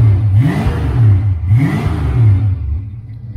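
A Ford Fox body car engine revs up twice in quick succession, loud and close, each rise followed by a drop back toward idle.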